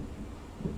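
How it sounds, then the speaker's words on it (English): Low, rolling thunder from an approaching storm over Cauldron Lake in Alan Wake, a steady distant rumble that swells slightly near the end, with no voices. "It seems there's a storm coming."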